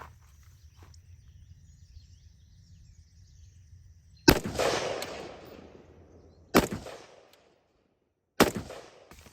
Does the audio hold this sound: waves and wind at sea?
no